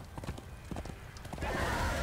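Hooves clip-clop in a steady rhythm as a horse is ridden in Darksiders 2, the hoofbeats rising into louder galloping and a whinny-like burst toward the end.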